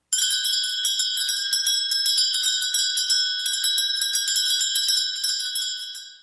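A handheld Salvation Army Christmas kettle bell rings rapidly and continuously, a bright metallic jangle that is close and clear before tapering off at the end.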